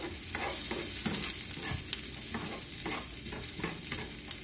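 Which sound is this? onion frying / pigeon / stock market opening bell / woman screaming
onion frying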